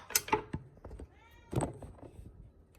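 A house cat meows close to the microphone, two short cries in quick succession followed by another after a pause, with faint indoor clatter in between.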